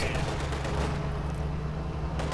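Gunfire from grenadier squads in Company of Heroes 2, dense overlapping bursts of rifle and machine-gun shots over a low rumbling battle bed, loud and continuous, with faint speech mixed in.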